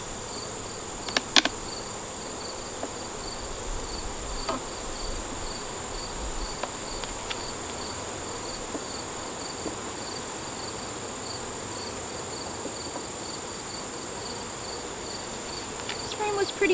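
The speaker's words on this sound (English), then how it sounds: "I got some bees with some pollen on them, which is really pretty." Honeybees buzz around an open hive during an inspection, a dense steady hum close by with a few faint clicks and knocks scattered through it.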